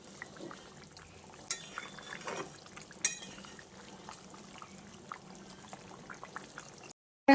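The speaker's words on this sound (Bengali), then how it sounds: "ভাজা মাছগুলো দিয়ে হালকা হাতে নেড়ে চেড়ে মিশিয়ে নিচ্ছি।" Fried katla fish stirred gently into curry in a pot: soft scraping and scattered clinks of a spoon against the pot, quiet and intermittent, then a brief silence at the end.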